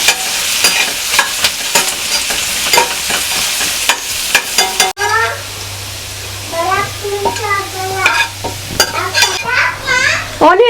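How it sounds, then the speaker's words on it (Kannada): Onions deep frying in oil for egg dum biryani give a loud, dense sizzle with scattered clatters for about five seconds, then the frying hiss continues more quietly while a voice is heard over it. "ಆನಿಯನ್ ಎಲ್ಲ ಈ ಥರ ಡೀಪ್ ಫ್ರೈ ಮಾಡ್ಕೊಂಡಿದ್ದೀನಿ"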